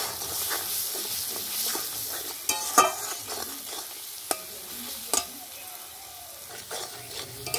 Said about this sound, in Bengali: সব মশলাটা এবার ভালো করে নাড়াচাড়া করে নেব।